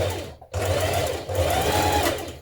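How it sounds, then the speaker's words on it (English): Sewing machine stitching fabric bias strip pieces together along a diagonal seam, a close, steady mechanical whir broken by one brief pause before running on. "Now you're going to sew your bias strip pieces together along the diagonal seam."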